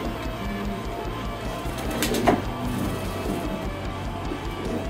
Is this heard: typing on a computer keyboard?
no